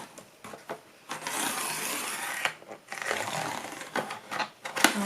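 A rotary paper trimmer with a zigzag blade is drawn across paper in several scraping, rasping passes of uneven length, fairly quiet and close, with brief pauses and small clicks between strokes.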